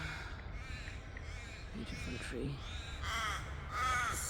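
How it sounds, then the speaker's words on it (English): Crows cawing from a tree on a sunny morning walk, several hoarse calls from mid-distance, the last two loudest, under steady outdoor noise with a person talking. "I can show you the other birds that are sitting on this tree"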